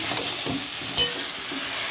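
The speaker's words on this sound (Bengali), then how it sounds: "ভালো করে চিকেনটা কষে নিই" Chicken being stir-fried in a pan with little oil and spice, with a steady, close sizzle and a brief louder scrape of the spatula partway through.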